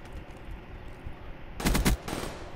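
Short burst of M8A1 rifle fire in a team deathmatch shooter game, a quick cluster of loud shots near the middle followed by a softer second burst, over low game ambience.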